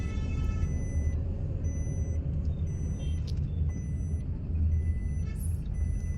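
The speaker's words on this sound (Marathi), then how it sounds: "आता इथून परत ट्रॅफिक सुरू झालंय आपल्या ऑपोजिट साईडने" A queue of road traffic idles and creeps along on the opposite side of the road, with a low engine rumble throughout and faint high reversing-style beeps and tones.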